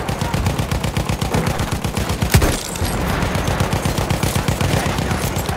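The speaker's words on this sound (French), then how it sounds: "C'est une mitrailleuse ennemie." Enemy machine gun firing in the video game Battlefield 1 on the Verdun Heights operations map, a loud sustained rapid burst of shots in steady rhythm with a brief sharper blast midway.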